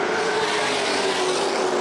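Stock cars race at Winchester Speedway, a loud, continuous engine roar filling the track with a steady, dense drone and no audible talk over it.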